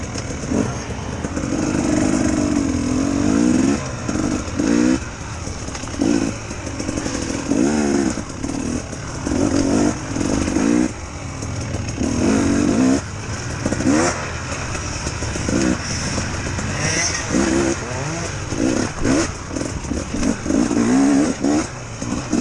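A 2018 KTM 300XC-W two-stroke dirt bike engine revs repeatedly on a demo ride, rising and falling in sharp bursts with raspy blips between throttle pulls, close and loud throughout.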